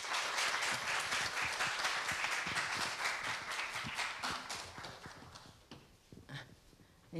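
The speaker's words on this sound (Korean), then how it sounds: "여러분 힘찬 박수로 맞이해 주십시오." A university lecture audience claps to welcome a cultural critic onto the stage, brisk and fairly close, with the applause thinning out and fading toward a few last scattered claps.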